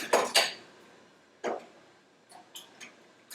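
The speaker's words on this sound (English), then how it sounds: "Let me stir that." Hot syrup stirred in a pot for canning peaches, a few sharp metallic clinks and scrapes of a utensil against the pot, spaced out and fairly close in an otherwise quiet kitchen.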